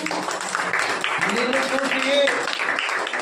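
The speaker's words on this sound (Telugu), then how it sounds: "చప్పట్లు కొట్టండి" Church congregation clapping hands during a Pentecost service, a continuous busy clatter of applause under a speaker's voice and a sustained tone that rises and falls through the middle.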